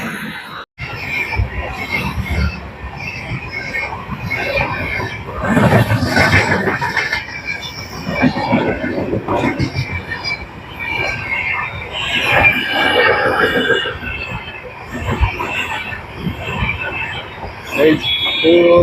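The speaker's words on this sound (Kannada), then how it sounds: "ಟ್ರೈನ್ ಖಾಲಿ ಇದೆ" Train rolling past on a railway beside an industrial area along the Bangalore–Bellary bypass, a loud sustained rumble with squealing wheels and clattering bursts, close and continuous, with faint voices mixed in.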